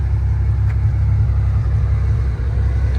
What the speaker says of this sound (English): if you want to lower the sound of the exhaust, but in my opinion, it sounds perfect